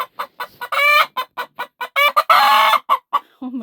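A broody hen in a nesting box clucks in a rapid series of short, close, loud calls, a few drawn-out squawks mixed among the clipped bursts.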